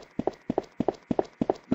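Footsteps looping in a Unity survival horror game demo, a steady beat of paired dull knocks like hoof clops, loud and near, with nothing else audible.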